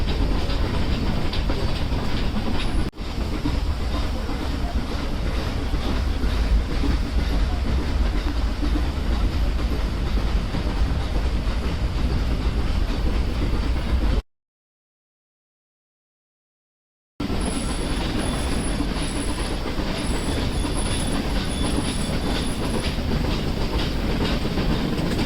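Ooty toy train on the Nilgiri Mountain Railway between Mettupalayam and Udhagamandalam rolling along steadily, with continuous close wheel clatter and carriage rumble, briefly cut to silence midway before the running noise resumes.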